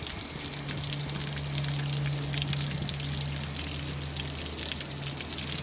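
Water draining from a camper's fresh water tank during winterizing, a steady splashing gush onto the ground nearby, continuous and moderately loud, with no talk.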